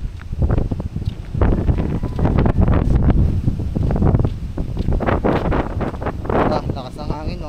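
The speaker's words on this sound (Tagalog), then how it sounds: "Lakas ng hangin" Strong wind buffets the microphone in loud, gusting bursts, with a person talking faintly underneath.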